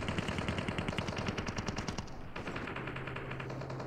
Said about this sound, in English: Dude, there's so many gunshots.